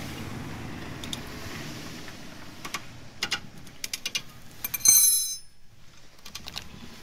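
Ratchet clicking while undoing a rear brake caliper bolt on an Opel Vauxhall Zafira B, quick bursts of small rapid ticks in short strokes, fairly faint and close, with a brief sharp metallic scrape partway through.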